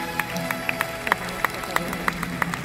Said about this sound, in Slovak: Pokračujte v potlesku